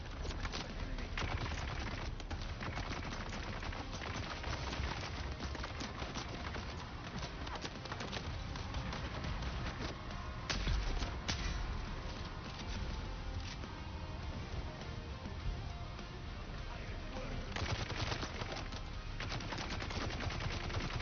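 Gatling gun fire in the Dune Awakening video game, with dense rapid bursts and continuous clattering over a loud, busy battle mix.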